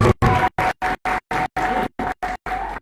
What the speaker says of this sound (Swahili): Mpigie Bwana makofi kama leo.